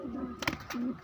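Pigeons, Punjabi and Madrasi breeds, give soft low coos, two drawn-out murmurs bracketing a brief flutter-like burst, close and fairly quiet.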